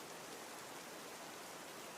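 Steady rain pours down as an even, dense hiss, soft and continuous with no breaks or voices.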